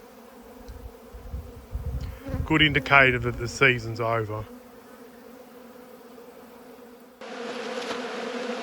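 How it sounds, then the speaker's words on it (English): Robber bees swarm and buzz around closed beehives at the end of the beekeeping season, a dense steady drone with a person talking over it partway through. "just look at the amount of robber bees that are trying to get in"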